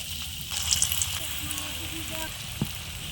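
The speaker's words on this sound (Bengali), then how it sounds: "এবার আমি গোল গোল করে বড়াগুলো ভেজে নিচ্ছি" Round cabbage fritters fry in hot mustard oil in a wok, giving a steady, close sizzle and crackle with a few louder pops and some quiet background sounds.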